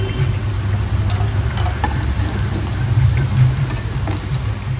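Baby corn deep-frying in a pan of hot oil, giving a steady, continuous bubbling sizzle at close range with no talk over it.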